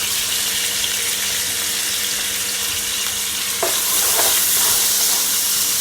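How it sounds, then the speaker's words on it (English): Seasoning dropped into a hot pot of Jamaican seasoned rice with sardines gives a loud, constant sizzle and frying hiss, with stirring scrapes. The sizzle swells briefly louder partway through. "I'm just gonna add some of my seasoning"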